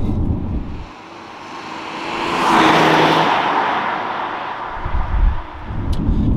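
A BMW E90 330d with a turbo diesel engine and manual gearbox accelerates hard on the road, a deep engine drone swelling with wind and tyre roar, building to a loud surge, then easing and rising again, with no talk.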